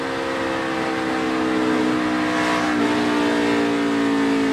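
A NASCAR race car engine at Kentucky in 2016 holds a loud, steady, high-revving drone on throttle, with a slight pitch shift partway through and no speech.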